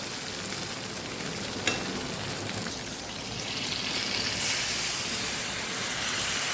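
Stuffed bitter gourd curry in Kathiawadi style sizzles and fries steadily in hot oil as water is added, a continuous close hiss that swells louder toward the end, with no talking.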